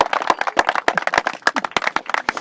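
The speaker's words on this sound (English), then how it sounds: "Can I get a round of applause, please?" Sharp, irregular hand claps ring out from a small audience at a talk on the Magna Carta and the British constitution, sounding close and lively with no speech over them.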